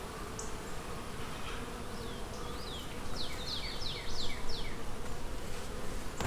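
Honey bees buzz steadily in the background, with chirping birds calling over it and growing a little louder toward the end.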